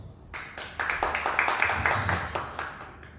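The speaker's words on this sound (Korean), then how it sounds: "박수 한번 주세요." Congregation at an evening church service clapping together, a short burst of fairly even applause that swells and fades within a few seconds.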